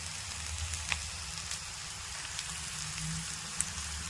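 Chopped banana flower sautés in a pan, giving a quiet, even hiss with a few small pops scattered through, alone and without any talking.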